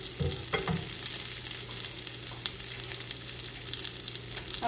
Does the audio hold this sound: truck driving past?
no